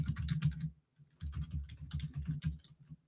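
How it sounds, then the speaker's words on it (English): Quick, steady clatter of keys being typed on a computer keyboard, close up, with a brief pause partway through. "I'm typing, everyone. Listen to me type."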